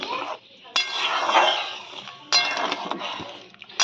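A spoon clinks against a pot while stirring mung dal cooked with cauliflower and gourd in water, with short sharp knocks between soft, wet swishing close by.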